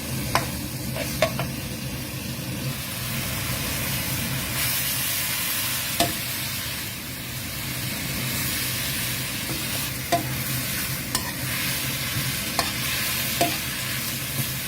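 Garlic sizzles in hot oil in a home kitchen pan, a continuous steady fry hiss broken by several sharp scrapes and taps of a spatula against the pan, with no talking.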